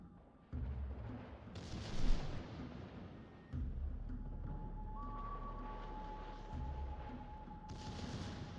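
Naval gunfire from a warship's main batteries in World of Warships Legends, heavy booming salvos at intervals over a rumbling battle background with a steady engine-like hum.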